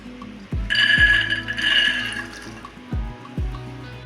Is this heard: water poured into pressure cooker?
yes